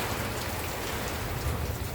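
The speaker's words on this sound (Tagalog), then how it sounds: "Lakas ng ulan." Heavy rain pours steadily with a dense, continuous hiss and low rumble throughout, no voices.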